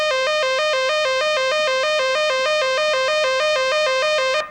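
Synthesizer tone modulated by a square-wave LFO, jumping abruptly between two pitches in a steady trill-like alternation, loud and sustained with no talking.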